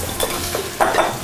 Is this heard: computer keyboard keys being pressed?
no